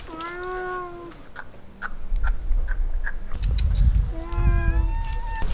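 A cat meows twice, a long drawn-out call at the start and another near the end, with rustling and background noise in between.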